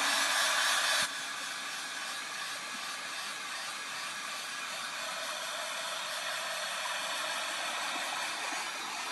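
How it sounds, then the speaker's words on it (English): Heat tool drying neon lunar paste on a craft background, a loud steady blowing hiss that drops slightly after the first second and continues alone. "keep your heat tool moving so it doesn't bubble"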